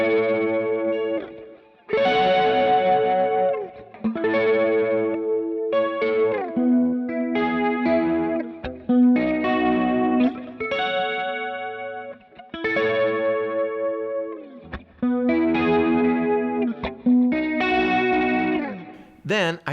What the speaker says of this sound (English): I threw some chorus on this thing, right? And I knew I was going to play up high